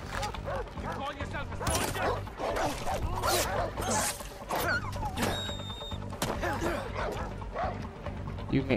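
A dog barking in the video game Far Cry 4, a run of repeated sharp barks and yips at close range over a busy game background, with whimpering sounds mixed in.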